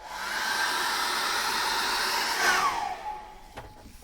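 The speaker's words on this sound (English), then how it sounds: "I think I'm going to dry that off with a hairdryer now" A hairdryer drying thick acrylic paint blows steadily with a high whine, nearby, its pitch shifting briefly before it winds down near the end.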